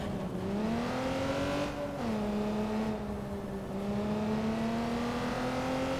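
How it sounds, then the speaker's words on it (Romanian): In the video game Watch Dogs 2, a car engine hums steadily while driving, its pitch easing down once and then holding a smooth, continuous drone with no voices. "Îmi place cum se aude motorul la"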